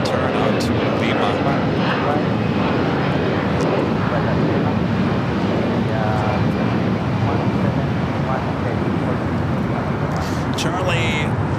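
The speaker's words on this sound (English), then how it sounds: "Asiana 8380, flight 204, making that left-hand turn out to Lima" An Asiana aircraft taxis at LAX, making a left-hand turn onto taxiway Lima, a loud, continuous jet engine roar up close with commentary spoken over it.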